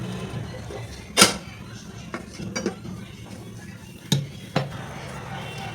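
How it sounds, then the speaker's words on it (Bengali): Metal plate set down into a kadai preheated on high heat for baking biscuits, giving a sharp clink followed by a few lighter scrapes and knocks, close by in a quiet kitchen. "এবার আমি থালাটাকে বসিয়ে দিচ্ছি।"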